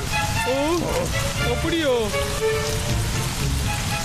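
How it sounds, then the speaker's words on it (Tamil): Steady rain pours down throughout a Tamil cartoon scene, a constant hiss of drops under animated character voices and a brief spoken line. "ஐயா, மழை பெய்யுதுடா."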